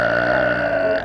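A loud, drawn-out burp in a public place lasts about a second, deep and strongly voiced, right up close.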